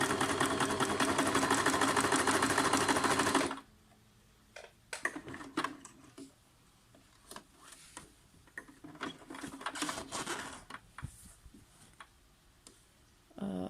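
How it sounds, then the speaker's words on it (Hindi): A Singer Tradition 2263 sewing machine runs a long straight stitch in a steady fast whir for about three and a half seconds, then stops, leaving faint handling clicks and taps. "और अब मैं आपको टांका लगा के दिखाती हूँ कि अब कैसा टांका आता है।"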